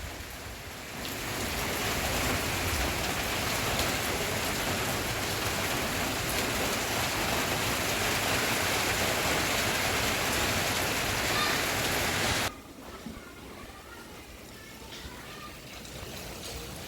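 Heavy rain pours steadily for about eleven seconds as a dense hiss, then drops abruptly to a quieter patter for the remaining moments.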